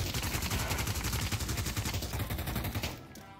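Rapid automatic gunfire in the Pavlov VR shooter, a steady close burst of shots rattling for about three seconds before cutting off.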